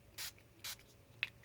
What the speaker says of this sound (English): This is wild honey distress spray